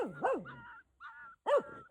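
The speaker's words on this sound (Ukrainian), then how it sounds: "ти на мене не гавкай" A dog gives close, loud yips and short barks in a few quick bursts separated by brief pauses, with whimpering pitch slides between them.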